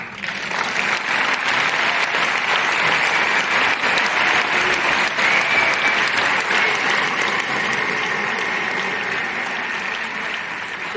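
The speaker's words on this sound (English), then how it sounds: "You can clap." A lecture audience breaks into sustained applause, a dense, even wash of many hands clapping that holds strong for several seconds before slowly thinning toward the end.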